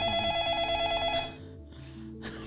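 Telephone ringing in the video game Facade, a bright electronic trill repeating rapidly for about a second before cutting off, followed by quiet room tone.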